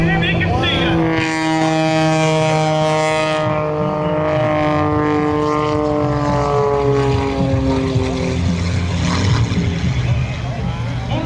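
Propeller-driven aerobatic airplane flying inverted at a Blue Angels homecoming airshow, a loud steady engine drone with descending Doppler harmonics as it passes, with a crowd announcer talking over it.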